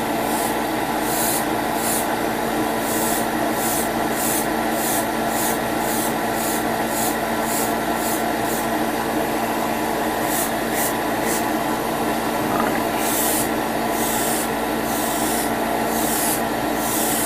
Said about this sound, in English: No matter how much sanding I did with the lighter sanding grit